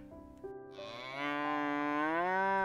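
Cattle low in a herd of oxen and cows, a long drawn-out moo that swells louder and holds steady near the listener, with no talk over it.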